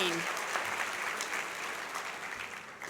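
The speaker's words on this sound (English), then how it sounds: "Another hand of applause for the John A. Hartford winners for 2018." A conference audience in a large room gives sustained applause for 2018 award winners. The clapping is steady and fairly distant, fading slightly toward the end.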